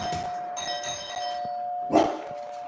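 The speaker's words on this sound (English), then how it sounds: "We want to hear the doorbell." An electronic doorbell chimes a two-tone ding-dong, followed by a dog's sharp bark close by.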